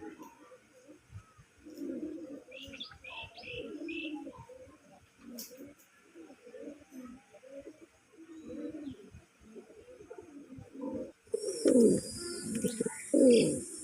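Several colored Gola pigeons coo in soft, throaty bursts close by at a pigeon sale, with chirps mixed in and a brief sharper sound near the end.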